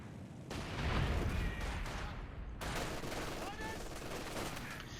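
Company of Heroes 2 battle: grenadiers and conscripts trade rifle and light machine gun fire while rifle grenades burst, a dense, loud, continuous crackle of shots and blasts with a voice talking over it.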